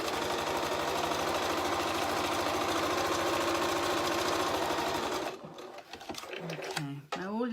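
A sewing machine stitches piping onto a fabric cosy cover with a fast, loud, rhythmic mechanical chatter for about five seconds, then stops and a voice speaks.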